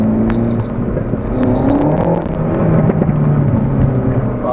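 Renault Megane RS300 Trophy hot hatch engine droning steadily up close, with a continuous, loud rise in pitch as it revs, no voices over it.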